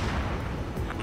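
A missile launches in the air-combat game Ace Combat 7, a short, loud roaring whoosh with a booming rumble that stays dense throughout the brief moment.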